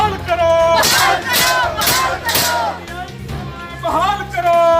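Protesting teachers crowd outside an MP's residence in Sirsa, chanting slogans loudly in unison, rhythmic shouted phrases rising and falling close by.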